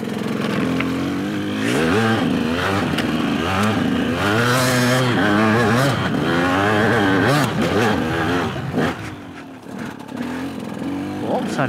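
A small-displacement motorcycle climbs uphill with its engine revving and rising in pitch through repeated gear shifts, loud and close throughout.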